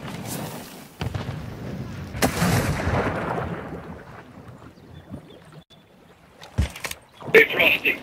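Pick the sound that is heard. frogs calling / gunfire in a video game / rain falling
gunfire in a video game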